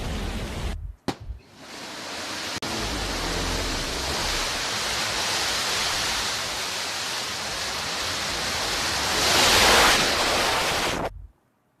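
A Blue Origin New Shepard rocket lifting off from its Texas pad for the NS-15 flight, its engine a loud, sustained broadband roar that swells toward the end, then cuts off abruptly.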